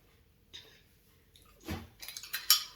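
Sauce stirred in a bowl with a utensil: faint quiet scraping and a few soft wet clinks, growing into a cluster of sharper taps and scrapes toward the end.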